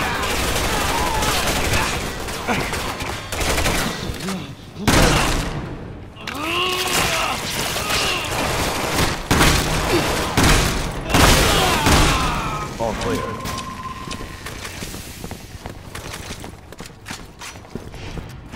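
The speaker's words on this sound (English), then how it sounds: "Shoot it! Keep him back!" Video game gunfire in Resident Evil 6 during a Chris campaign co-op firefight, dense bursts of shots and booms crackling through a loud, busy battle mix with voices shouting over it.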